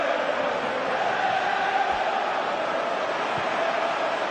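A football stadium crowd at Liverpool versus Manchester City roars after a goal, a dense sustained wall of cheering that holds steady and loud throughout.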